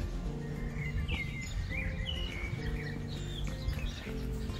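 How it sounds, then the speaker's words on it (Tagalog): Small birds chirp and trill repeatedly in high, quick bursts on the Isle of Man coast at Port Jack Glen, several calls overlapping against a steady low outdoor rumble, no talking. "Ang daming mga ibon dito."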